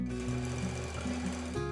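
An old sewing machine stitches steadily with a whirring motor hum and rapid needle rhythm, close and continuous, the motor pitch shifting slightly as it runs.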